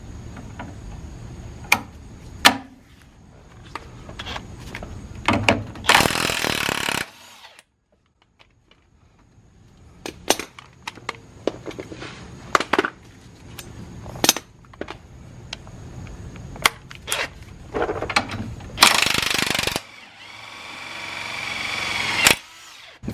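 Front shackle bolts being removed on a Dodge W150 during a Rough Country lift install, with repeated loud bursts of impact wrench or power tool rattling between pauses and scattered metallic clanks and knocks nearby.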